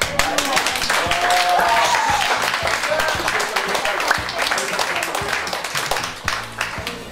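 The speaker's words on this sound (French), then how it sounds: "On peut applaudir." Wedding guests applaud at a reception, close and lively clapping with distinct individual claps over a steady crowd wash, a few voices and whoops rising through it before it tapers off near the end.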